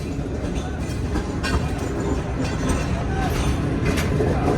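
A train rolls past a crowded roadside tea stall near Mohenjo Daro, a loud, steady rumble and clatter of wagons close by, with voices faintly mixed in.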